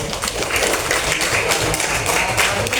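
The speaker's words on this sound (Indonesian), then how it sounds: "Tepuk tangan yang sudah hadir" Second-grade schoolchildren in an elementary school religious education lesson clap together, a steady, dense patter of many hands that carries on throughout.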